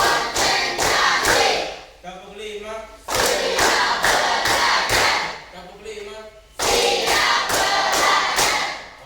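Group of students clapping in a classroom in rhythmic bursts, several rounds of sharp, loud claps separated by short pauses, with a voice speaking in the gaps.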